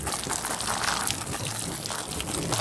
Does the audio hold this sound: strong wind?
no